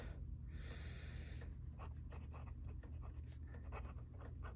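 A pen scratches across paper up close, quiet strokes in an irregular rhythm over a constant background hiss, with no voices.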